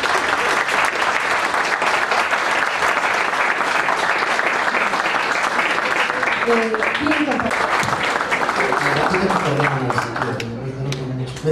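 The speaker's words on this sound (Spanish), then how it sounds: "pido un fuerte aplauso" Steady applause from a seminar audience welcoming a guest speaker, dense and sustained, while a voice starts talking over it near the end as the clapping tapers.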